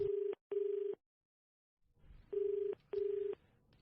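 Four steady electronic keypad tones in two pairs, each about half a second, with a short gap and a faint low rumble before the second pair.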